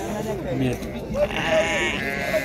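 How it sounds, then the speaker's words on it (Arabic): Sheep bleat repeatedly at a weekly livestock market, several close, wavering bleats overlapping someone talking continuously nearby. "هذا خرفان ملاح تبارك الله خرفان وخروفات ملاح تبارك الله"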